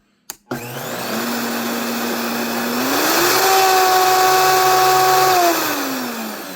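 A Vitamix blender motor runs loud and steady after a sharp click, its whine climbing to a higher pitch partway through and then easing back down near the end. No one speaks.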